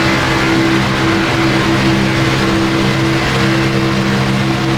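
NASCAR Xfinity race cars at Talladega Superspeedway in the iRacing game, a loud continuous engine drone with steady tonal whine as the pack roars past.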